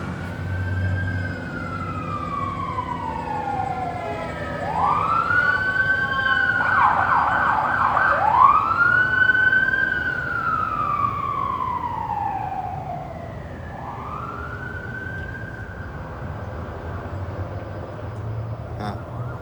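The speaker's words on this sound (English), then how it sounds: "Sirens, huh?" Emergency vehicle sirens wail through a street scene, rising and falling sweeps that swell louder then fade into the distance over a steady background rumble.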